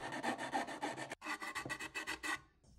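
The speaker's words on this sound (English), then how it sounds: "Now I can file down the rough edges" A hand file rasps back and forth over the rough edges of a plastic cutout for a custom liquid-cooled Mac build, about a dozen steady close strokes with a brief pause midway, then trailing off into quiet.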